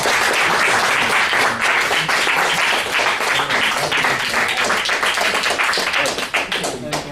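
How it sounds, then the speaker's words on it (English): An audience at a Left Forum panel on third parties applauds loudly and steadily for the panelists, a thick wash of clapping that thins slightly near the end. "let's give a round of applause for our panel"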